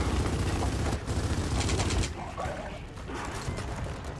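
Rapid bursts of gunfire aimed at a snatcher creature in Gears of War 4, loud and dense for the first two seconds, then fading into lower, scattered combat noise.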